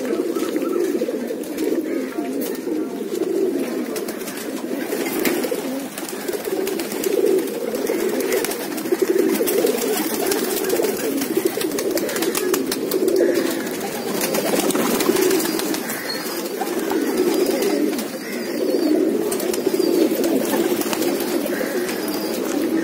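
Pigeons coo repeatedly in soft rhythmic phrases, close by and steady, with a faint chirp or two and little other noise.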